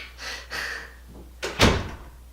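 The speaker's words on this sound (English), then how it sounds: "Shut the door." A door being shut: a soft creak and rustle of movement, then a firm, thudding close with a short rattle, fairly loud and near, with no talking.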